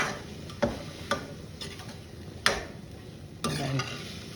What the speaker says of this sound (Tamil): இது வந்து நல்லா வதங்கணும், எல்லாம் ஒன்றோட ஒன்று மிக்ஸ் ஆகணும்